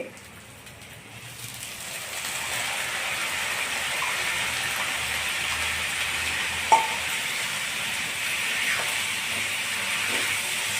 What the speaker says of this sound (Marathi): अगदी असं व्यवस्थित परतून घेणे